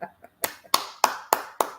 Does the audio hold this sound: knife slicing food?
no